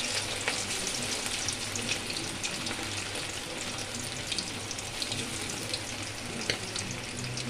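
Chicken 65 pieces fry in a shallow amount of oil with a soft, steady hiss scattered with small pops and crackles. The sound is fairly quiet and has no talk over it.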